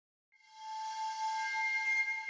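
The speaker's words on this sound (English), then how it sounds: "Whistle." A single sustained whistle tone rises in after a short silence and holds steady and fairly faint, clean and alone, in the puzzle game Dark Fall: The Journal.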